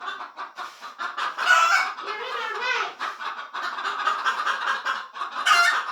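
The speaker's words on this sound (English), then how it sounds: "Pet chickens out there." Pet chickens cluck and squawk continuously at close range, with several birds calling over one another and a person speaking briefly among them.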